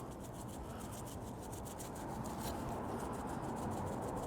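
Cattleman's Grill Mexicano rub, a thin blend of paprika, cumin and chili flake, scattered over a raw tri-tip: a steady, close, dry granular hiss that runs evenly throughout with no talk.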